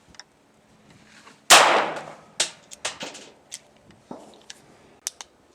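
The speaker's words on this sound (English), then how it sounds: "this is the Phoenix Arm shooting Remington 550" Phoenix Arms HP-22 pistol firing Remington .22 rounds: one loud, sharp nearby shot rings out, followed by a string of fainter, irregular cracks and pops.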